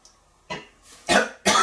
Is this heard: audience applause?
no